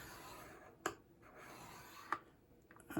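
A tool drags along cardstock to score fold lines for a handmade card, quiet scraping broken by a few sharp ticks and clicks, close and soft with no talking.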